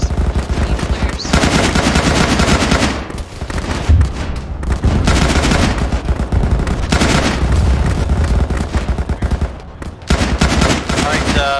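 Heavy video game gunfire from attacking infantry rattles on in long, loud bursts of machine-gun and rifle fire with occasional booms, broken by brief lulls, with muffled voices underneath.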